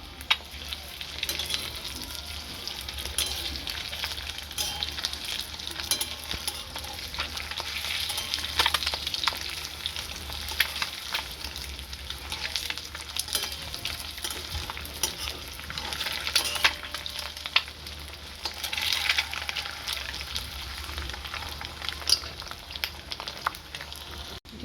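Salted eggs fry in a pan, turned partway, giving a continuous crackling sizzle with bursts of sharper spitting, steady and fairly quiet throughout.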